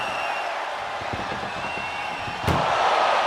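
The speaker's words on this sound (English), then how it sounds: "Just close the second door and victory is yours." A door slams shut in a WWE 2K25 match, one loud, sharp bang that lifts the crowd roar and cheering in the arena, following fainter thuds and scuffles.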